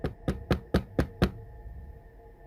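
Knocking on a bedroom door: six firm, evenly spaced raps in quick succession, close and fairly loud, followed by quiet room tone.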